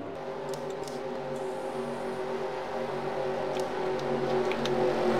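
Race cars in a video game stock-car race crossing the finish line, a steady layered engine drone with engines slowly rising in pitch and loudness, no voices.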